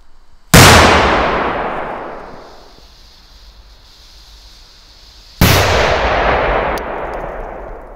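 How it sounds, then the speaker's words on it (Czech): A Doom Boom Monster firecracker with a 45-gram charge goes off outdoors with a sharp, very loud blast and a long decaying roar, followed by a second equally violent bang a few seconds later. "Jako další tady máme petardu Doom Boom Monster. Tahle má teda 45 gramů slože."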